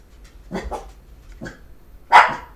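Several dogs bark indoors, a few short separate barks and then one loud sharp bark at the close, fairly near and heard without talk over them.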